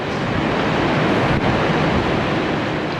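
High ocean waves surge at Nouakchott, Mauritania, where small fishing boats head out, giving a continuous, loud broadband roar of surf with some wind rumble and no voices.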